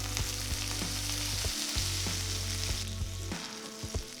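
Mustard seeds, chopped ginger, green chillies and curry leaves sizzle in a hot pan for rava idli, a bright continuous crackle over a low steady hum, punctuated by light tapping stirs.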